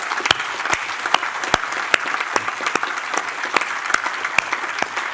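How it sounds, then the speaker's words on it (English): Conference audience at The Rīga Conference 2025 applauding the support team, a steady roll of clapping from a large crowd with sharp individual claps standing out near the microphone throughout. "So please, big applause to all the team supporting."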